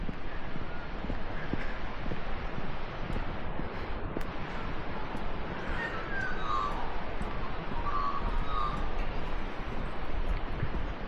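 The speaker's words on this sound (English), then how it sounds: "The birds are singing." Morning birdsong at Ebor Falls on Waterfall Way, NSW, with a few faint chirps and trills partly buried under constant rushing water and wind noise.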